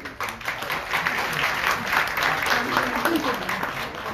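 An audience at an engineering centre event applauds a guest being called up, a dense, steady patter of clapping lasting a few seconds, with a voice speaking over it.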